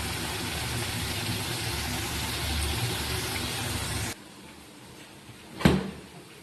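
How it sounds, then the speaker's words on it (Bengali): A refrigerator door is opened in a home kitchen. A steady background hum cuts off abruptly, followed by a single short, close clunk of the door. "তো চলো তোমাদের দেখাই ফ্রিজটা খুলে।"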